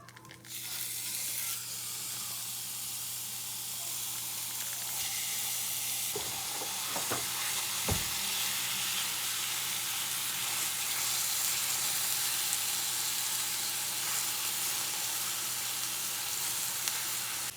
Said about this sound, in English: Now you're gonna go ahead and add your ground beef.